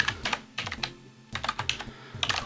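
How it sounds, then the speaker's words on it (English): Close, crisp typing on a computer keyboard in short bursts of quick key clicks separated by brief pauses, with no talk. "I'm going to type in"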